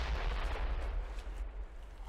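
An explosive barrel blows up in a sewer level of a video game, a loud, booming blast that rolls and fades into a long rumbling decay.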